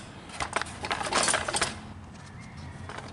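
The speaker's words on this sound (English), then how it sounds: "Just go ahead and pop your screws loose here, and the cover should come right off." Screws being loosened on the cover of a Briggs engine on a power washer or lawn mower, a short burst of small metallic clicks and light rattling from a nearby hand tool, no talking.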